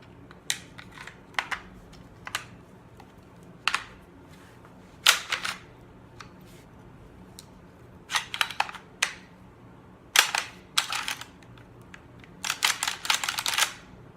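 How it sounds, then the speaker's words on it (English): A Saiga 12 bolt is handled and pushed into a DDI 12 shotgun, giving sharp metallic clicks and clacks in irregular clusters over a quiet background, with no talking. "Let's put the Saiga bolt right into the DDI."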